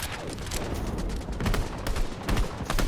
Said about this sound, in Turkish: Ben uzaktan sıkıyorum şu an.